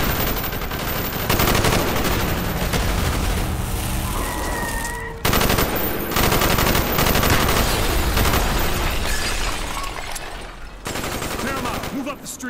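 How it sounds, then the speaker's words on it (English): Sustained machine-gun fire and rapid volleys from a shooter video game street battle, loud and dense throughout with brief dips, under a busy soundtrack with voices. "Bowman, Carlos, lay down covering fire."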